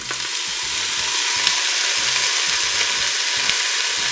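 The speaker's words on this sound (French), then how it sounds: "Je vais ajouter maintenant les oignons dans la cuve." Onions sizzle as they fry in a Cookeo electric pot on the browning setting, a loud continuous crackling hiss with repeated rhythmic scraping strokes from stirring.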